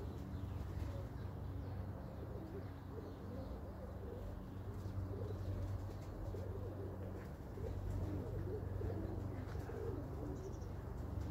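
Pigeons coo softly and repeatedly in a loft or yard, low and muffled amid steady background noise, with occasional faint chirps, at moderate distance.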